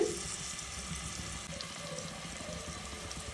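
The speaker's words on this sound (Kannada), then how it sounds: "ಈಗ ಹಚ್ಕೊಂಡಿರುವಂಥ ಆನಿಯನ್ ಹಾಕ್ಕೊಳ್ಳಿ. ಇದಕ್ಕೆ ಆನಿಯನ್ ನಾನು ಇದನ್ನು ಫ್ರೈ ಮಾಡ್ಕೋಬೇಕಾಗತ್ತೆ." Chopped onion fries in a pan for mushroom sambar, producing a loud, dense, continuous sizzle that holds steady throughout without pauses.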